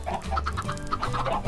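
Chickens in the Minecraft video game cluck steadily in a dense, repetitive run of short game-sound clucks with no talk over them.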